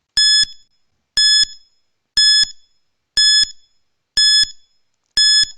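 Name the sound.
quiz timer sound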